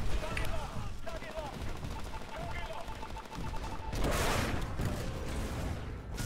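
Gunfire rattles in the first-person shooter game Titanfall, scattered rapid shots and bursts amid game noise, with a louder wash of sound partway through.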